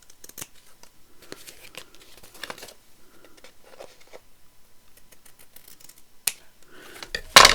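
Small scissors snip stray threads from stitched paper, producing a run of light, crisp clicks and snips close by in a quiet room, ending in a louder rustle of paper handling.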